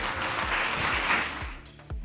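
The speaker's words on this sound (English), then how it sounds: "Let's give our panelists a big round of applause." An audience claps for a panel at the close of a live family-office event, a steady wash of applause that swells and then thins out over about two seconds.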